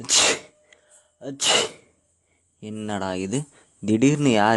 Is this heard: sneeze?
yes